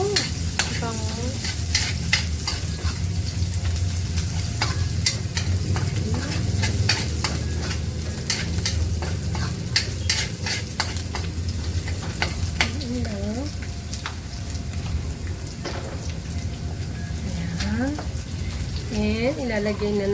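Garlic and onion sauté in a hot pan for monggo with prawns, with a steady sizzle and repeated scraping stirs of a spatula through the whole stretch while someone talks intermittently.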